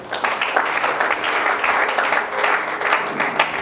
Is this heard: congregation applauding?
yes